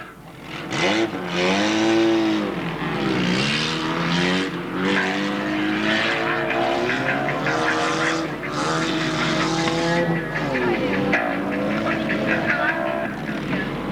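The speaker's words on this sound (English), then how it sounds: "Now got the Grand Prix midgets, which are just warming themselves up, lining up ready for their first race of the afternoon" Grand Prix midget race cars warming up at Alwalton Raceway in 1983, their engines revving loudly and continuously, pitch rising and falling as several motors rasp together close by.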